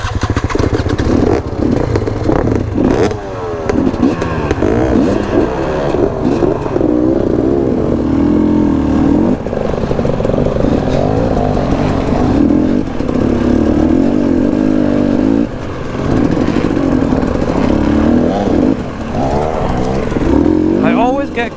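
A KTM 250 dirt bike engine revs and labors loudly and continuously through a muddy trail ride, rising and falling in pitch, with a rider's voice mixed in.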